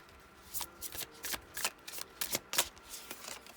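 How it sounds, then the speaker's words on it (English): Tarot cards are shuffled close up in a quick series of crisp riffling bursts, about a dozen rapid flutters in a steady rhythm, with no talking over them. "I saw that when I was shuffling."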